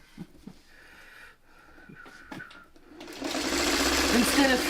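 Sewing machine stitching a quilt block: soft fabric handling and small taps give way to a steady, close motor whir that starts and keeps running to the end.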